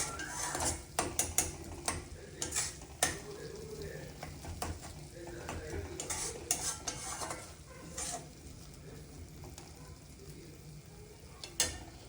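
Paneer masala with cream is stirred and cooked in a pan, a soft sizzle with scraping spoon strokes and occasional clinks against the pan, close and quiet.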